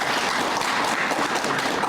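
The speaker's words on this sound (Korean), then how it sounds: "박수 한번 좀 보내주십시오." Audience at the opening of a national art exchange exhibition in Cheonan claps steadily, a dense, even roar of many hands with no pauses, brief and fairly loud.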